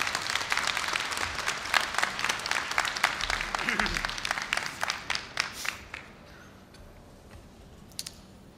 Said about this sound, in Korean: 여러분 뜨거운 박수로 우리 선배님을 환영해 주시기 바랍니다